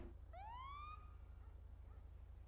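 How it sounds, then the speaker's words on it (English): A single short rising police siren blip from a patrol car in the FiveM game, a quick clear wail over a steady low engine hum with no talk. "you want to blip your siren once with R."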